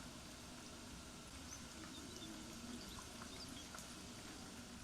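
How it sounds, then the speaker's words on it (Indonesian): Cordon bleu chicken shallow-frying in a pan over low heat gives a steady, even sizzle with soft crackling pops throughout, fairly quiet and close, with no talking. "kita cukup goreng di api kecil supaya bisa matang merata sampai ke dalam-dalamnya"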